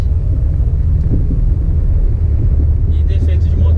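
A Volkswagen Jetta 2.5 with an engine fault runs with a loud, steady low rumble that holds close and unbroken throughout, with no pause or change in pitch.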